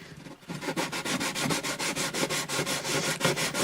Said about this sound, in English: You just want to smooth it off enough to get rid of the protrusion area. I may not have to go to a finer sandpaper.